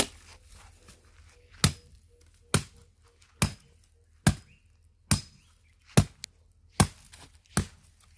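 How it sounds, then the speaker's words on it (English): A machete chops into a tree in a village, eight sharp, evenly spaced thwacks about a second apart, close and loud with quiet between strikes. "I'm trying to use the machete to cut off the tree"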